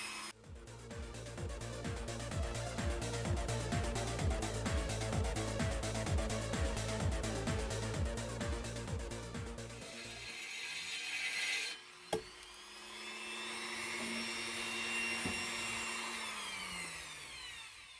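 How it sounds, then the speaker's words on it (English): A Dremel rotary tool cuts at low speed with a rough, rhythmic grinding whir that stops abruptly partway through, followed by a sharp click and a fainter whining hum. "Use the Dremel here at a low speed"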